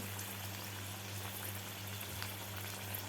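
Cabbage vadas shallow frying in oil over medium heat, a steady soft sizzle and bubbling hiss running evenly throughout at low level, with a faint low hum underneath.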